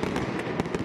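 New Year fireworks over Berlin: a steady crackling wash of repeated bangs, with several louder bursts standing out at irregular intervals, heard from a distance through the crowd din.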